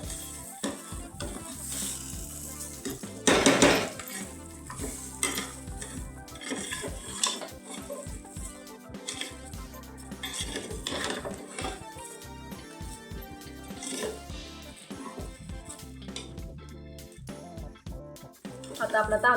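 Rice being stirred and roasted in a pan for masale bhat, with soft sizzling, scraping and metal spoon clinks against the cookware in irregular bursts, plus one sharp louder clatter near the start.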